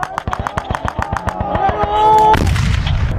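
During U.S. Army battle training in Poland, a loud, deep detonation booms out after a run of rapid sharp popping bursts, with shouting voices nearby.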